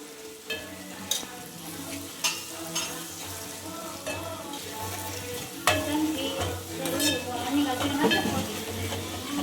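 Ginger garlic paste and turmeric sizzle in a hot frying pan while a spoon stirs and scrapes, with steady frying hiss broken by repeated clinks and scrapes against the metal, close by.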